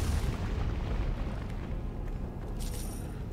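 A barrel blows up after being shot in the video game Dungeon Siege 2, giving a loud, sustained, roaring boom that rumbles steadily with no quiet gaps and no speech.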